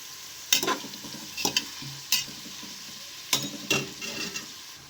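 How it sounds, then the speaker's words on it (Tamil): Crushed ginger and garlic sautéing in a pan for tomato rice, a soft sizzle under a few sharp bursts of stirring and scraping, roughly five strokes, close and with no voices. "இஞ்சி பூண்டு தட்டி வச்சுருக்கேன் அதையும் போட்டு கொஞ்சம் பச்சை வாடை போகிற வரைக்கும் வதக்கிக்குவோம்"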